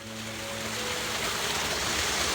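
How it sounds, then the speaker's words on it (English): Water from a natural mountain stream in Zagora, Pilion, rushes steadily and loudly nearby as a continuous broadband wash, with no voices. "How's this water coming down the mountain stream?"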